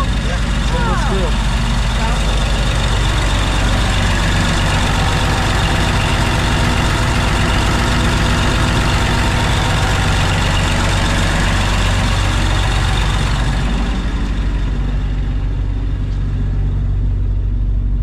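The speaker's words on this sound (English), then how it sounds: "Just one engine on this boat?" A single-engine commercial shrimp boat idles steadily with a loud, low rumble that carries on unbroken before easing slightly toward the end.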